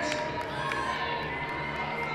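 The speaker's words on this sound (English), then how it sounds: "Crowd that's in here getting behind James, getting every rep out of him they can." A gym crowd at a fitness competition cheers on an athlete grinding through reps, a steady wall of shouting and encouragement that lasts the whole two seconds.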